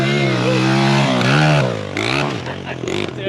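A 100cc pit bike engine that needs a tune-up revs up and falls back in a rough, wavering drone, loud and close over a few seconds.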